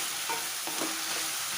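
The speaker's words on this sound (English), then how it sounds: "Stir it well and let it fry up for a little bit." Tomato sambol with potatoes fries in a pan while being stirred, a constant close sizzle with a few soft scraping strokes of the spoon and no talking.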